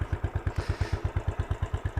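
A Royal Enfield Desert Storm motorcycle idles with an aftermarket exhaust fitted with a heat shield, giving a steady, evenly spaced single-cylinder thump, roughly eight beats a second, close and alone with no speech.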